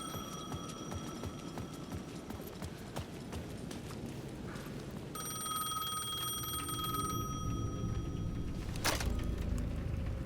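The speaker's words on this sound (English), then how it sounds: "The payphone at the edge of the plaza was ringing again." A payphone rings in the Alan Wake II video game, repeated bell tones sounding over a dense, rumbling ambient backdrop that grows louder partway through.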